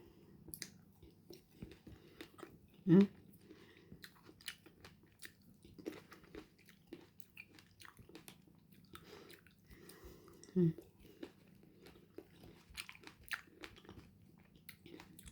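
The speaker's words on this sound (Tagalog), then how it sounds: "Ito lang ito, kinakain ko siya." Someone close by eating a piece of fruit, with soft, quiet chewing and two louder crunchy bites about eight seconds apart, over faint background noise.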